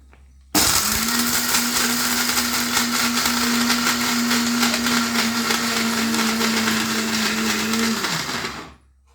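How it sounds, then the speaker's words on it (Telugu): A mixer grinder grinding spices and dry lentils whirs loudly and steadily for about eight seconds, starting abruptly and winding down at the end, with a coarse grinding rattle over its hum. "ఇప్పుడు ఇవన్నీ వేసుకొని పప్పు దినుసులన్నీ మసాలా మిక్సీ ఆడుకుంటున్నాను"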